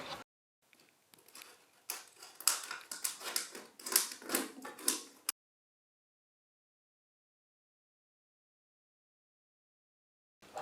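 Scissors snipping through a plastic bottle to remove its top quarter, a run of rapid, crisp crackling cuts and clicks for a few seconds, then complete silence.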